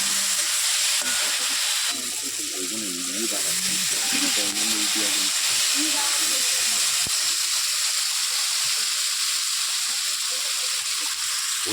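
Spices sizzle and hiss in a hot pan after a little water is added while frying masala for a curry, a loud steady crackle and steam with spoon stirring, fading slightly later on.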